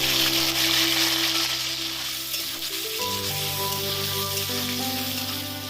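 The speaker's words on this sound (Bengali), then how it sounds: "হালকা করে চিংড়ি মাছগুলো ভেজে তুলে নিচ্ছি।" Medium-sized prawns lightly frying in mustard oil give a continuous, even sizzle from start to finish. Sustained steady tones sit alongside the sizzle, and no one speaks.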